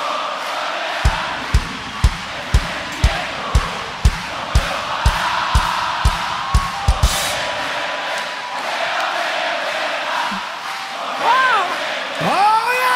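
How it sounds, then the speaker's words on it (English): A crowd at a concert in Buenos Aires claps in a loud, regular rhythm, then breaks into a sustained roar of cheering and chanting. Voices talk over the crowd toward the end. "Now that's a fun crowd."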